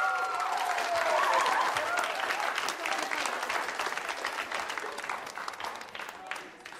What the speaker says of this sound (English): And big round of applause for them.